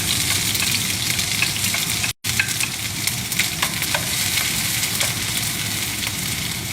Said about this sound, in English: I'm going to always fry your gingers first. So, adding the ginger in.